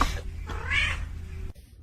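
A pet cat meows in a short burst during play, close and fairly loud over a low background hum, ending abruptly.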